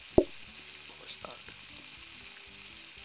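Steak sizzling on a grill in the cooking video game PlateUp: a steady, soft frying hiss runs throughout beneath faint tonal game music, with a small tap near the start and another at the end.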